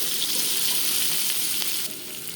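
Chopped green chili, turmeric and salt fry in a hot pan, giving a steady bright sizzle that stays loud and continuous, easing slightly at the end, with no talk over it.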